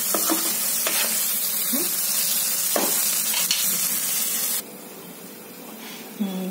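Large green chillies stuffed with salt fry in a pan with a steady loud sizzle and scattered stirring scrapes, then the sizzle drops away sharply near the end, leaving a quieter hiss.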